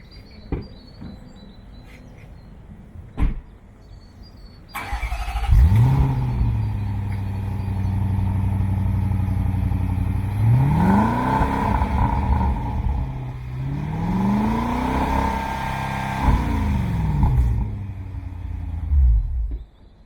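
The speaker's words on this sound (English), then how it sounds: "There you go, revving it, and with the bangs, shot up to 100." A remapped car engine revs hard several times, each rising rev swelling loud and close before dropping back with sharp bangs and pops, after a few faint ticks and a sudden startup.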